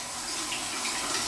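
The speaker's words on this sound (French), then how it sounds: "On va juste à rincer les mains. Parce que là, ils sont très collants." Water runs steadily from a tap as sticky hands, coated from handling feta, parmesan and cottage cheese for a pita pizza, are rinsed beneath it: a close, even hiss of flowing water with no speech.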